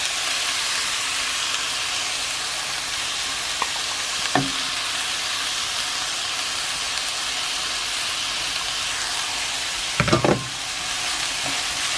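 Ground pork and translucent onion sizzle and hiss steadily in a hot pan for a stir-fry, with a couple of sharp scraping stirs of a utensil against the pan standing out above the constant frying.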